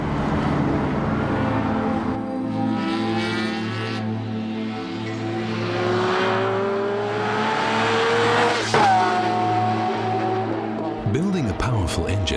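A Ferrari F50 driven hard at the limit, its engine note rising and falling steadily through gear changes, with a brief tire squeal and sharp transient near the end, loud and continuous.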